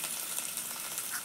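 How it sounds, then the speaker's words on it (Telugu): Onions, chillies and curry leaves fry in hot oil with cumin and mustard seeds, giving a steady, fairly quiet hiss of sizzling that holds evenly throughout with no talking. "ఉల్లిపాయలు, మిరపకాయలు, కరివేపాకు అన్నీ వేగినాయి"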